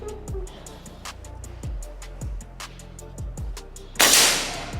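Quiet ticking and low thumps lead into a single sharp crack from a PCP semi-automatic air rifle, close and loud, with a hiss that trails off afterward.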